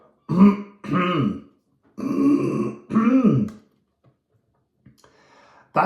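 Four rough throat-clearing coughs close to the mic, each a short guttural burst about a second apart in two pairs, followed by quiet.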